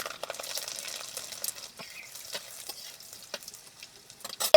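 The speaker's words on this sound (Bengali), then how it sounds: "কড়াইতে একটু সরিষার তেল দিয়ে দিচ্ছি এই তেলে দিয়ে দিচ্ছি কালো জিরে রসুন" Black cumin seeds and garlic sizzling and crackling in hot mustard oil in a wok, a steady close frying hiss with sharp pops throughout and a louder burst at the end.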